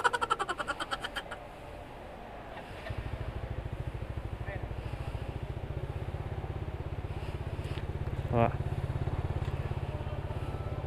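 A Honda Beat scooter engine cranks and starts, then settles into a steady, fast putter at idle, nearby and fairly quiet.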